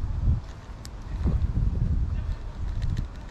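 Light wind buffets the microphone outdoors on a grey day while bass fishing, producing low, uneven rumbling gusts that rise and fall throughout.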